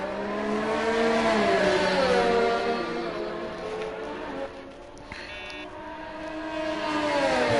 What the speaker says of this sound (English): we can see the cars are now heading on track now